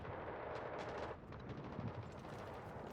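Gunfire in a Delta Force multiplayer match, a dense burst of sharp shots and rattling reports at moderate volume, fairly close, with a continuous rumble beneath.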